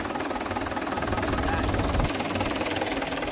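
Mahindra 475 tractor fitted with cage wheels working a banana field, its engine a steady close diesel throb with a low knocking rhythm and no talking.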